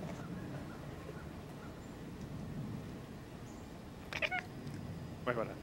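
Two short, high squeaky chirps from a cat break through a steady low background hum near the end, faint and quick.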